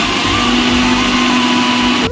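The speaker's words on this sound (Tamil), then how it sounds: "அதை பிளெண்ட் பண்ணிக்கலாம்." A blender mixing a chocolate milkshake with sliced chocolate: a loud, steady motor whir with a constant pitched hum, running for about two seconds before cutting off abruptly.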